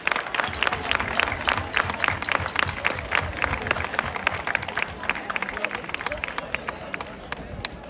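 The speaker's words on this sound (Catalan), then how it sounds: "Un aplaudiment, un aplaudiment." Applause from a seated crowd at a secondary school Sant Jordi award ceremony, dense steady clapping filling the whole stretch at an even level, with some murmured chatter beneath it.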